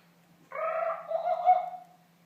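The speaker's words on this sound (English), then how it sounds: "you will know it is time to turn the page when you hear the jungle bird call like this" A single bird call, warbling and tonal with a slight descending slide, rises clearly from near silence and fades after about a second and a half.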